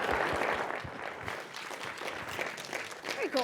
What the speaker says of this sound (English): Anna, would you give a big round of applause for Anna as she makes her way down here?